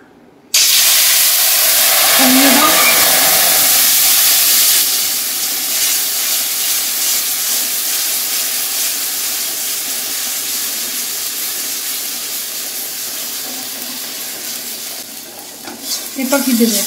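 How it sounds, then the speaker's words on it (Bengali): Ginger hits hot oil with a loud, bright sizzle and hiss that holds steady and slowly eases, with a light stir near the end, while cooking Bengali raw mango chutney. "এবার আমি আদাটা তেলে দিয়ে দেব।"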